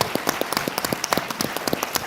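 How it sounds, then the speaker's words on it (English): Applause from an audience at a university town hall: brief, fairly faint, scattered hand claps, with no talking. "Let's give the students a round of applause for that."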